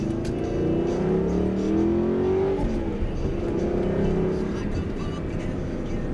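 An Aston Martin Vantage engine hums and rises in pitch as it accelerates, heard from inside the cabin at a steady moderate level.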